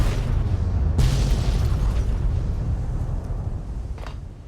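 A warhead detonating in Fallout New Vegas gives a deep, loud rumbling boom that swells about a second in and then slowly rolls away, with no voices over it.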